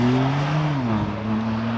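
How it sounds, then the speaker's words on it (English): A BMW M2 race car pulls away from the start line at a hillclimb, its engine note rising steadily and then stepping to a new pitch at a gear change. The car is loud, close and clear. "Simon Atkins heads away in the BMW M2."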